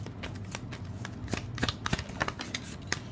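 Tarot cards shuffled by hand in a quiet room, a steady run of soft papery riffles and flicks with a few sharper snaps as cards are drawn, close and fairly faint.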